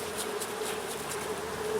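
Steady, dense buzzing of many honey bees close by at a hive, a continuous droning hum with no voices.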